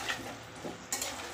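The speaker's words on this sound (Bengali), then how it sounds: "আলু লাল লাল করে ভাজা হয়ে গেছে।" Potatoes fried with salt and turmeric until reddish-brown sizzle softly in a pan, a faint steady hiss broken by a few quick scraping clinks of stirring.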